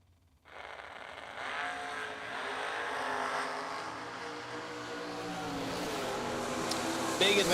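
Drag race cars, including a Camaro Roadster, launch hard from the line at a drag strip, the roar bursting in suddenly and holding loud and steady as the engines scream away, close and alone.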